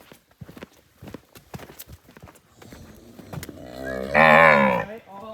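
Brahman cattle in a herd, some with warts, with hooves clopping on the ground, then a single loud, drawn-out moo up close near the end.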